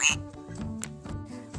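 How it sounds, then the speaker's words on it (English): Cartoon-style duck quacking from an animal-sounds flash card set, a short burst of quacks at the start over light background music, with no voices present. "Duck."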